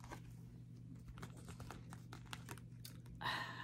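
Soft, close tapping and light rustling as tarot cards are handled, a series of quick irregular clicks and shuffles ending in a brief crinkly burst, faint against a quiet low hum.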